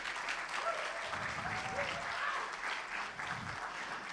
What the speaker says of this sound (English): Let's give a big round of applause for Simon Russell.